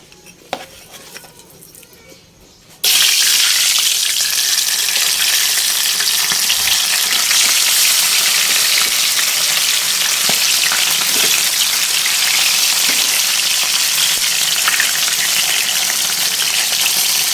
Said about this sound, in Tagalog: Mainit na mainit na mantika, oh. Sisimula na ako magprito.